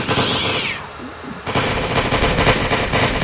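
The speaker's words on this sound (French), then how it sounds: "ce pistolet, c'est un pistolet qui tire en rafale." A burst-fire pistol from a modded video game fires in loud rapid volleys, a dense rattling burst, a short lull, then another sustained clattering string of shots.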